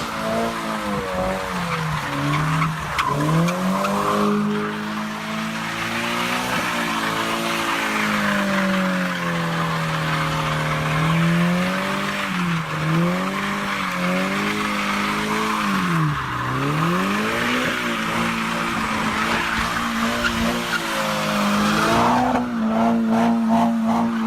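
A Scion FRS with a big rear wing and mismatched wheels doing donuts, a continuous wavering tire squeal over a droning, rising and falling engine note, loud and sustained.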